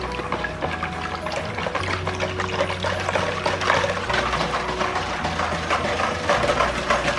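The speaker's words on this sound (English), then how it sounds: "Go ahead and pour our whole milk in there." Whole milk pours steadily into a bowl of tres leches cake mixture, a close, continuous gurgling stream that holds the same level for the full stretch.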